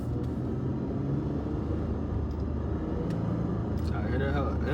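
A Lexus IS250 engine fitted with an Injen cold air intake idles with a steady low rumble and a faint airy intake hum, heard close and continuous, with talk faintly over it.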